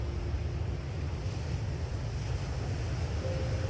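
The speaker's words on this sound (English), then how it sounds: "listening to the rhythm of the breath in tune with the rhythm of the ocean" Steady ocean surf at a beach, a soft continuous wash of waves with some wind noise, alone and fairly faint.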